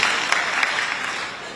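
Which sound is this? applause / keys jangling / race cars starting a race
applause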